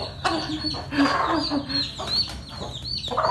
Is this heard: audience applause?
no